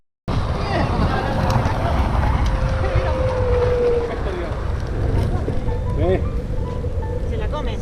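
A Floatwheel ADV and a Onewheel GT-S electric board race uphill outdoors, giving a loud continuous motor whine with shifting pitch. Heavy wind buffets the microphone throughout.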